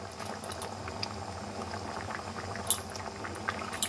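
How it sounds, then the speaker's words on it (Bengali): A potato and pea curry bubbles softly in a pot, with a steady low simmer and small pops, quiet and close, with no talking. "আমার আলু আর মটরের সবজি ভালো মতো ফুটছে"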